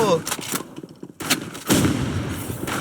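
Gunfire in the Roblox first-person shooter Rivals comes in several sharp, loud bursts separated by short gaps, with a dense volley swelling toward the end.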